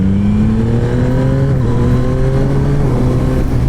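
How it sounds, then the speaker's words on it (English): A Yamaha MT-09 motorcycle engine in rain mode revs up in several rising and falling pulls, steady and close with a continuous rumbling drone and no talking. "So let's see the response from this engine in rain mode."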